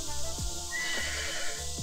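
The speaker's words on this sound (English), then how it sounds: "Press down here, change our level of pedal assist. You guys know that. And our horses bark." The horn of an Urtopia Carbon 1S electric bike plays a recorded horse whinny, a loud close neighing call with clip-clop hoof sounds and no talking.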